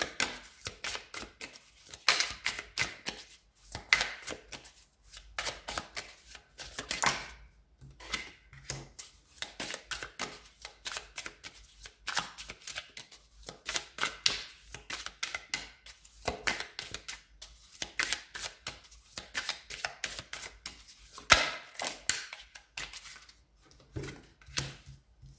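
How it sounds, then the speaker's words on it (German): Tarot cards being shuffled by hand, a steady run of soft riffling and slapping bursts at close range, quiet and continuous with no talking. "mal an, die Karten für dich zu mischen."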